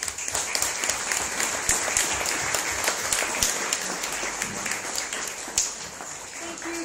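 Sustained audience applause at an HR business café event, a dense, steady wash of many hands clapping throughout, fairly close and even in loudness.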